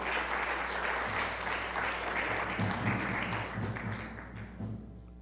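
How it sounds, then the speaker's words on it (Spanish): A church congregation applauds together in a steady, dense wash of clapping that carries on for several seconds. A low mains hum sits underneath, and faint voices come through in the background. "denle un aplauso al Señor"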